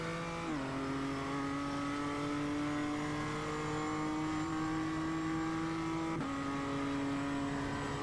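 Race car engine droning steadily in a racing simulator during an esports championship final, with a sustained high tone and two quick pitch drops as the car shifts gear, loud and unbroken throughout.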